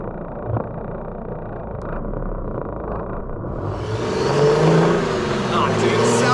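A turbo diesel hot rod with 964 suspension is revved from inside the cabin: a low engine rumble builds into a louder, rising roar partway through, with people talking over it.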